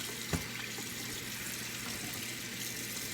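Lukewarm tap water runs steadily from a faucet into a sink for washing raw chicken, a constant close splashing hiss with one brief knock near the start.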